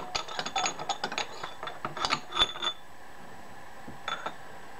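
Metal being chipped off a Clausing lathe apron, a burst of rapid, sharp metallic clicks and taps close by, then a short pause and a few last taps.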